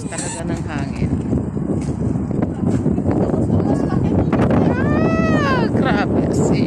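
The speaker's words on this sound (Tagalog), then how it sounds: "Lakas talaga ng hangin." Strong wind blasts during a sandstorm in Kuwait, buffeting the microphone in a loud, continuous rush while a voice speaks over it throughout.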